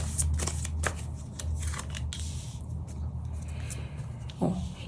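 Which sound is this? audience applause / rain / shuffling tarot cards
shuffling tarot cards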